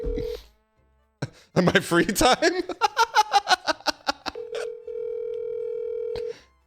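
A phone call is placed in a comedy scene. A short steady tone is followed by a rapid run of keypad dial beeps, and a long ringback tone plays after that. A person speaks briefly and laughter is heard among the dialing.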